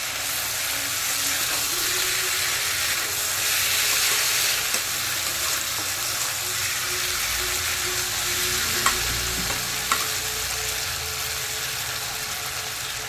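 A potato and cauliflower dalna fries in a pan under a steady, close sizzle, with occasional scraping clicks as a spoon stirs the curry. No one speaks.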